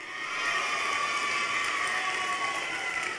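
Sustained audience applause with some cheering at the opening ceremony of a cycling tour in Guadeloupe. The clapping is dense and even, continuing without pause for about three seconds, with no speech over it.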